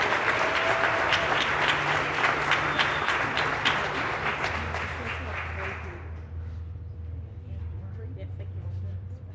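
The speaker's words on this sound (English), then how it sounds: "Let's have a big round of applause for our support staff of the year." Audience applause fills a school district employee recognition ceremony, dense clapping that stays steady for several seconds and then thins slightly while continuing to the end.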